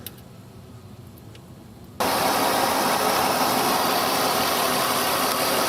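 A 2005 Mercury Sable with a Duratec 3.0 V6 engine, heard nearby: after a quiet stretch the engine starts abruptly and settles into a loud, steady idle.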